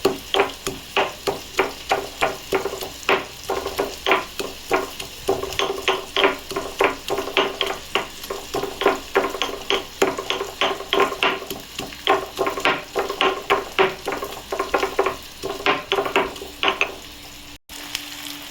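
Onion and crushed garlic sautéing in a pan for a prawn and fish curry, with a steady oil sizzle broken by many rapid, rhythmic scraping strokes of a spatula, close and fairly loud with no talk.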